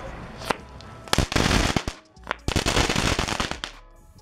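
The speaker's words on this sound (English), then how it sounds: "And then we have crackling balls, our second classic novelty." Loud bursts of rapid crackling pops from consumer crackling ball fireworks, like a string of small firecrackers, sputter in two main waves with brief gaps between them.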